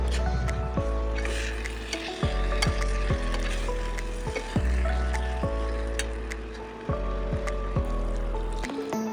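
Chicken goes into a pan of sizzling spiced masala for chili chicken Maggi noodles, giving a steady frying hiss with repeated sharp clanks of a spoon stirring against the pan.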